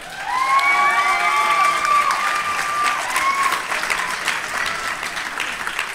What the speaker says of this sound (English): We're going to give our nominees yet again one more round of applause